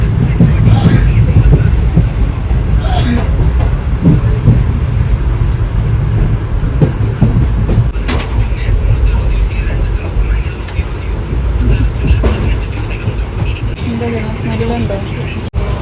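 Inside a moving general-class passenger train, a loud, constant roar of wheels and rushing air fills the carriage, with occasional knocks and rattles and voices faintly beneath.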